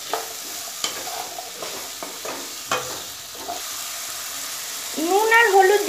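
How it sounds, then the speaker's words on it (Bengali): Potatoes with salt and turmeric are stirred in a pan. Quiet sizzling comes with a string of light utensil clicks and scrapes, and a short warbling tonal sound rises near the end. "নুন আর হলুদ দিয়ে আলুর সাথে ভালো মতো মিশিয়ে দেব।"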